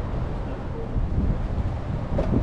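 Outdoor wind near the Golden Nugget hotel and casino in Laughlin produces a broad rushing roar of gusts buffeting the microphone, with faint voices under it.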